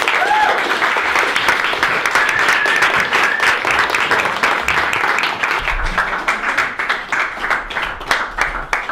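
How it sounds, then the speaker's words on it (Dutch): Loud, sustained applause from a large crowd at a show's finale as the coaches come forward, steady dense clapping that carries on throughout and thins slightly toward the end. "met onder een daverend applaus alle coaches hier naar voren gaan"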